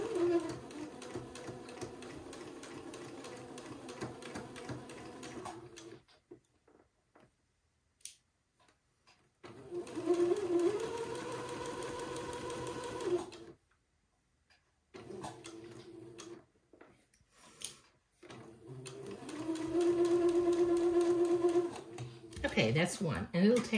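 A home sewing machine runs in three bursts while stitching both seams of a boy's white button-on suit shirt, a steady whirring hum with fine ticking, separated by short quiet pauses, with a little speech over it.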